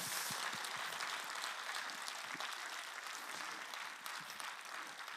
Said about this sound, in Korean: 이 시간 우리 주님께 영광의 박수 다시 한번 올려드립니다.